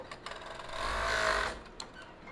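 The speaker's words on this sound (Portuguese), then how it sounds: "Não precisa costurar tudo, é só pra juntar as duas peças." A sewing machine stitches two pieces of a nursing bra together, one short steady whirring run of about a second that rises and fades, alone with light handling noises before and after.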